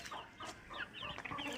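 Backyard egg-laying hens cluck in repeated short bursts, close by and fairly quiet, with no talking over them.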